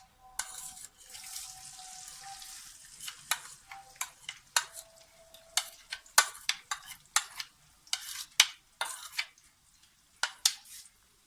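Cumin, cloves and black pepper frying in oil, with a soft sizzle early on, then scattered sharp pops and spatters and stirring clicks in a quiet kitchen.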